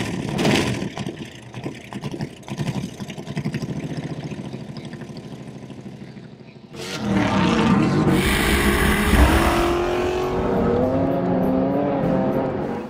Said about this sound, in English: The sound and the speed of the car.